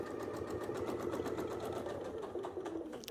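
A sewing machine quilts along a Westalee Sashlee ruler template, running in a steady, unbroken close-up whir for the whole stretch with no talking.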